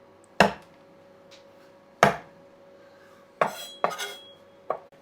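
A Dalstrong kitchen knife chopping pistachios on a cutting board: five sharp knife strikes with a faint clink, two spaced apart, then three in quicker succession, close and clear with no talking.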